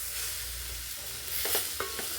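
Chilli, coriander and sambar powder frying in a pan for sprouted horse gram curry, with a dense hiss and a few soft stirring scrapes in the second half.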